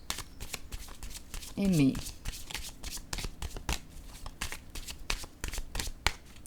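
A deck of playing cards is riffled and shuffled in a quick burst, then cards are snapped and slid down one by one in a steady flicking rhythm, close and clear, with a person talking over the handling.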